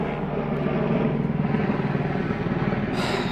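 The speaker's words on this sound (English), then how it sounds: "of course, a helicopter's going to fly over right now" Helicopter flying overhead outdoors: a steady, loud, low rotor thrum with a rhythmic chopping pulse that holds throughout, close by and alone without voices.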